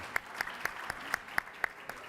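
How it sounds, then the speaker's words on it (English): Luncheon audience at an annual meeting clapping for a mayor: sparse, evenly spaced sharp claps, about eight in two seconds, faint and somewhat distant, with no talk. "Give him a round of applause."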